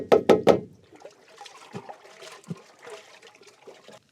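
Fertiliser stirred into a container of water, with three sharp knocks up front followed by soft sloshing, trickling and gentle splashes close by.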